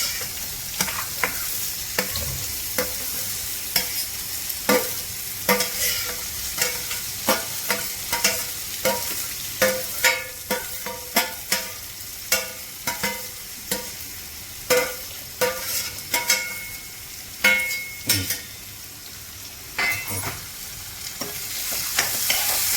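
Raw mango pieces, added with bay leaf, sizzle steadily in a hot pan of oil, with repeated sharp scrapes and clacks of a spoon stirring through the clip and no talk.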